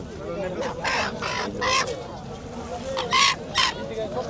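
Roosters for sale at a riverside market cluck and squawk in several short, loud bursts nearby, over a busy background of crowd murmur.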